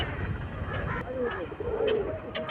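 Pigeons cooing softly while being fed grain amid a busy outdoor background, with low murmuring voices and scattered faint chirps throughout.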